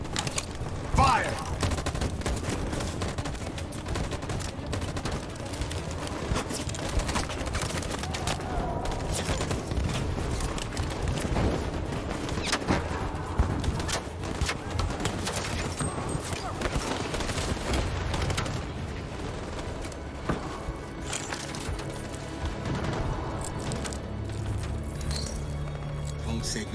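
Gunfire volley in Detroit Become Human, dense overlapping rifle shots crackling steadily throughout under game voices and shouting, with a continuous rumbling battle backdrop.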